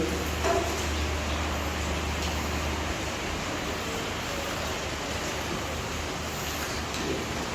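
Light rain drizzles outdoors at a resort construction site, a soft, even wash of hiss that stays steady throughout, with a low hum fading out partway and no speech.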